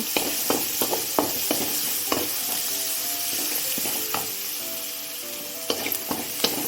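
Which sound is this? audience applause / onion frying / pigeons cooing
onion frying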